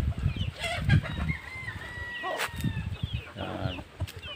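A fighting rooster crows and clucks at close range on a farm, with several throaty clucks leading into a drawn-out crow and further clucking, and other birds faintly behind.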